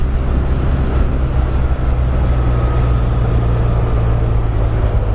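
A BMW R1200R motorcycle engine fitted with an aftermarket exhaust gives a steady, loud, low rumble out on the open road, holding an even drone with no breaks.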